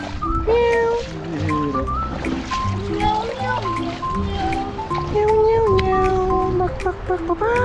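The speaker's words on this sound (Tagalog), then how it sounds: "Meow meow" A cat meows repeatedly beside a murky river where tilapia are being fished, the mews rising and falling across several seconds with other voices and water sounds around them.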